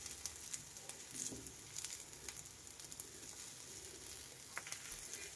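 Capsicum egg omelette frying in oil in a pan, a steady close sizzle with light crackling pops throughout, no voices.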